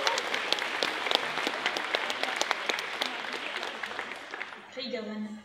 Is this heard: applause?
yes